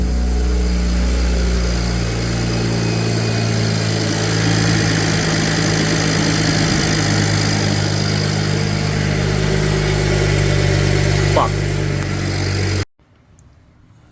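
A BMW N54 twin-turbo engine idles steadily right after a turbo install, a loud, even mechanical drone held for about thirteen seconds before it cuts off into near silence.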